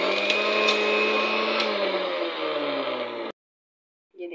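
A kitchen mixer grinder blends small sweet lime pieces for juice, a loud steady whirring motor hum with a dropping pitch as it slows, then cuts off abruptly, followed by a brief faint rattle near the end.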